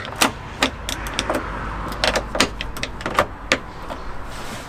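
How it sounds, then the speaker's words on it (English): Rear door latch on a Land Rover Discovery 4 clicking and clunking repeatedly as the door is opened and closed several times, a series of sharp close mechanical clicks and knocks with no talk. "door open, door closed, door open, so we know that all of our cables are operating correctly."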